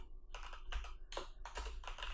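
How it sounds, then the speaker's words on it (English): Typing on a computer keyboard while writing an HTML page, bursts of quick close key clicks in clusters separated by short pauses, clear and alone. "let's start typing our first HTML page"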